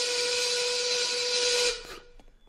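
A 1930s-style factory steam whistle from a Family Guy cartoon blows as one loud, sustained shrill tone, then cuts off sharply near the end, leaving a brief faint tail with no talk.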